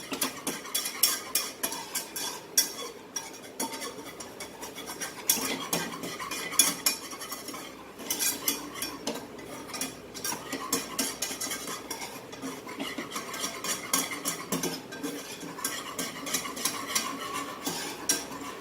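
Cheese sauce base stirred and fried in a pan for nachos, with steady scraping of a utensil against the pan and a soft sizzle throughout, close and continuous with no talking.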